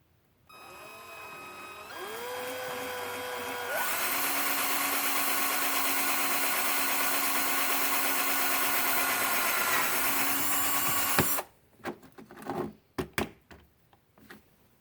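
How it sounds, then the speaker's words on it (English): A power drill whirs up, rises in pitch, and runs steadily for several seconds while drilling an RC car shock tower, then stops, followed by a few light clattering knocks. "I'll start drilling."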